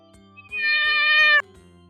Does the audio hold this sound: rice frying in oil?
no